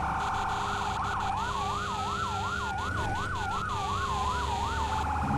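A fire engine siren in a firefighting simulator video game wails, sweeping up and down repeatedly over a steady engine drone, loud and close, with a few faint beeps above.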